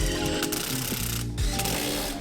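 A ratchet tightens coilover bolts during a King coilover spring replacement, giving a quick series of close, crisp clicking pawl strokes over about two seconds.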